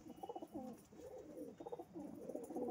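A Pakistani-breed pet pigeon coos in repeated rolling phrases, faint and fairly close, with no voices over it.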